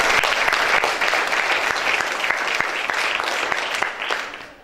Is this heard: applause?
yes